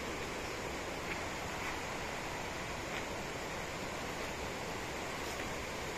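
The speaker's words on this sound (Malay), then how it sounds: "So ini sungai yang dekat dengan tapak 1 dan 2." Chor River flowing beside a campsite near Sahom makes a steady, faint rushing wash that stays even from start to finish, with no voices.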